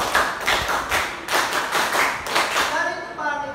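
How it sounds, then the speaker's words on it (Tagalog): A classroom group claps together in quick, even rhythm, about eleven sharp claps in a row, loud and close. "11 palakpak."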